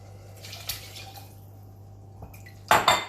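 Chestnuts and stock go into a soup pan for a chestnut and thyme soup, heard as a few faint clinks, then a louder clatter and splash of pouring liquid near the end. A steady low hum runs underneath throughout, and no one speaks.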